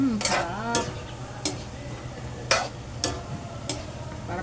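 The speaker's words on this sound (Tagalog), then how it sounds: "Ihalo ko na ang tofu" Tofu is stirred into adobong sitaw in a pan, with a few separate scraping strokes of a utensil against the pan over a soft sizzle, up close.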